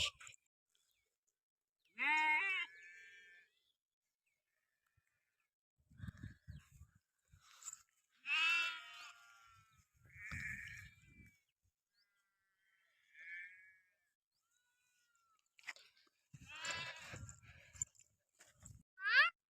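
Several loud sheep bleats come in bursts with quiet gaps between, some close and some farther off, with a few low rustling sounds.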